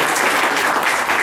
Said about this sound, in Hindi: तो जोरदार तालियां हमारे साथ में